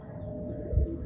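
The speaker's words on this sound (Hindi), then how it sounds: "बहुत अच्छे पल्ले का कबूतर है" A low, soft pigeon coo swells briefly near the end over a steady background murmur.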